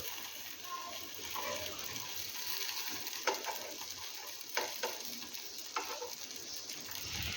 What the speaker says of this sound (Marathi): आता आपण ते दुसऱ्या साईडनीही फ्राय करून घेऊया